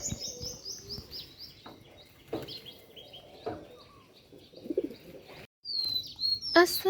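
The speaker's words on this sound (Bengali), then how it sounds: "দেখো সবাই এই ছোট কবুতরটা কিন্তু বাচ্চা কবুতর বুঝছো দেখেই বোঝা যাচ্ছে ও বাচ্চা কবুতর" A young pigeon makes soft coos and short chirps close by, mixed with other bird tweets and a brief flutter, in irregular bursts.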